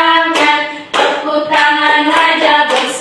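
Hands clap in a steady rhythm along with a group singing a cheerful Indonesian Christian praise song, the claps loud and close and blended into the continuous melody.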